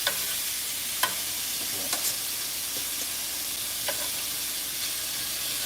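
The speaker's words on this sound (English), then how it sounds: "so it can go ahead and sear. You want to get that brown" Food sears on a hibachi-style griddle at home, a steady close sizzle and hiss with a few faint scraping taps of a spatula scattered through.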